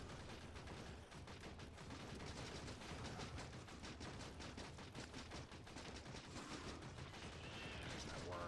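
Automated gun turrets in Factorio fire in a dense, continuous stream of rapid shots that runs loud and steady the whole way through, with no pauses.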